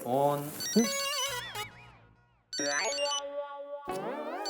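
A melodic electronic ringtone plays loud and close, its tune rising and falling, briefly cutting out before starting again; no words are spoken.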